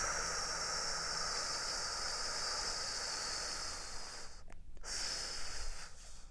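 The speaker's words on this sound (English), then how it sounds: "Another big torso inhale. Exerted exhale out of lips." Forceful breath pushed out through the lips after a deep torso inhale, part of a guided meditation breathing exercise; a long steady airy rush fills most of the stretch, then briefly cuts out before a rougher breathy tail.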